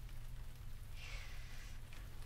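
Light rain falls steadily outside, a faint and even hiss with no voices over it.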